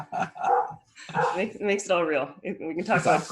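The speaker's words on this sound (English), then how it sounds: "You can hear my dog barking in the background." A pet dog barks intermittently at home while two people hold a conversation, the barks partly masked by their voices throughout.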